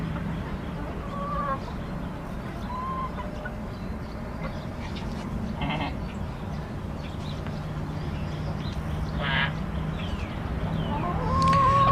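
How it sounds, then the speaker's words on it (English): Several backyard chickens near water give scattered short clucks and calls over a steady outdoor murmur, with soft rustling and a voice briefly in the background. "I think John is trying to collect all the chickens."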